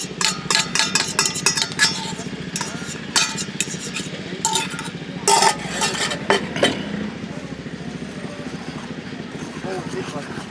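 Lemon cake batter with eggs is stirred in a bowl, giving rapid repeated clinks and scrapes of utensil against the bowl in uneven bursts, close up, with talk running alongside.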